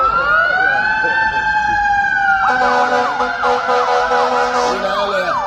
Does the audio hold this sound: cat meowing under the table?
no